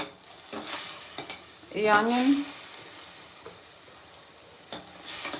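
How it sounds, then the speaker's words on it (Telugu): Onions and green chili fry in a pan for chicken curry, a close steady sizzle punctuated by scraping stirs, with a brief squeaky utensil scrape partway through and a single short spoken word. "ఆనియన్ మంచిగా ఫ్రై అయ్యే వరకు ఫ్రై చేసుకోవాలి."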